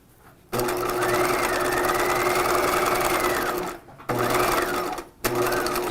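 Sewing machine stitching a dress strap seam with 5/8-inch seam allowance, running in steady whirring bursts broken by brief pauses, close and clear.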